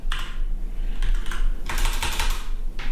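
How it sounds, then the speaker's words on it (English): Rapid clattering keystrokes on a computer keyboard, close and loud, arriving in dense bursts with short pauses and no voices. "what is going on with my keyboard today?"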